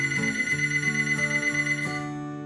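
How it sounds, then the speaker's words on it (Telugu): A mobile phone rings with an incoming call, a bright electronic melodic ringtone repeating a short tonal phrase several times at moderate loudness before cutting off and trailing away. "ఇంతలో అతనికి ఫోన్ వస్తుంది."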